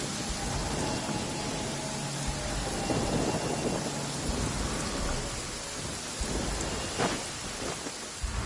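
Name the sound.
rain and thunder in a video game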